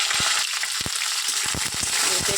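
Bitter gourd hits hot oil already holding dry red chillies and nigella seeds, a loud close frying sizzle broken by repeated sharp clacks of a spatula stirring in the pan.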